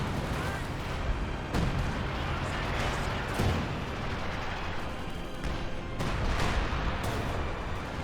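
An artillery barrage in Company of Heroes 2 booms at a distance, with several sharp impacts spaced over a steady battlefield din and someone talking over it.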